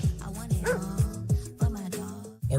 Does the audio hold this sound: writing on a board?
no